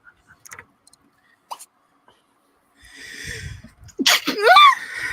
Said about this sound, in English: Yeah, that was a sneeze.